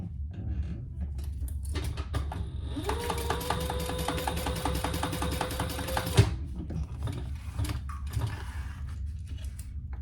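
Sewing machine stitching through fabric to baste pieces in place, a fast rhythmic mechanical clatter lasting about three seconds in the middle, near and fairly loud, framed by quieter handling noises and ticks before and after.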